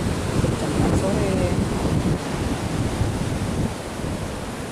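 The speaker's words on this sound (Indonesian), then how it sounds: "Ombak di Pantai Suci ini memang relatif besar karena berasal dari Samudra Hindia yang tepat berada di depannya" Large Indian Ocean waves break and wash continuously onto Sungai Suci beach in Bengkulu, a loud, steady surf roar with gusts of wind buffeting the microphone throughout.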